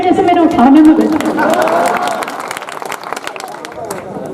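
Clapping and crowd noise from the audience at a Hindi kavi sammelan poetry gathering in Ujjain, loud and sustained over the whole stretch, with voices and tonal sounds mixed in near the start.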